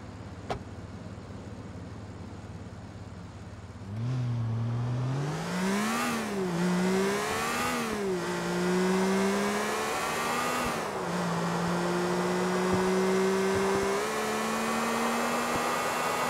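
A Turismo sports car in GTA: The Ballad of Gay Tony idles low, then accelerates hard with rising engine revs, several gear shifts and dips, settling into a loud sustained high-speed drone with no talk.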